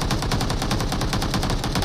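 Rapid automatic gunfire is fired from an aircraft in a shooting video game, a loud, steady stream of closely spaced shots that continues without pause and with no talk over it.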